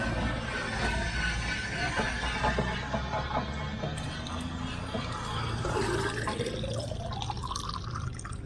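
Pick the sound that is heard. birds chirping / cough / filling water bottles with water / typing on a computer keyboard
filling water bottles with water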